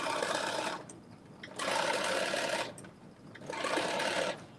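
A sewing machine runs three times, top stitching a garment, each burst a steady whirring hum lasting about a second, with quiet pauses between them.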